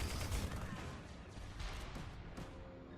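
Chain gun in Tribes: Ascend firing a fast, continuous stream of rattling shots, quiet in the mix and sustained across the moment.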